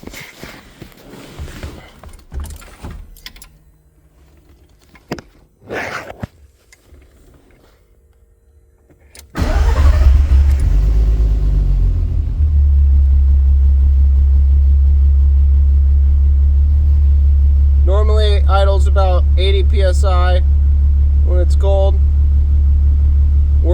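A car engine cranks over and catches, settling into a loud, steady low rumble close by, with a few sharp revs rising above it near the end; some clatter and handling noises come before the start.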